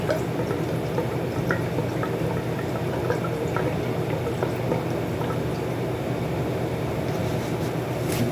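Gasoline poured into the fuel tank of a 2004 Kawasaki Vulcan 500, a steady liquid trickle and drip running throughout, close and moderately loud over a low background rumble.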